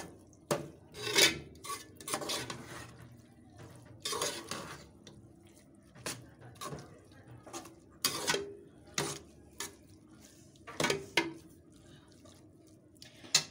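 A spoon stirring milk into carrot halwa in a metal pot, producing repeated close scraping clinks and knocks in an irregular rhythm, with faint liquid sloshing and no talking.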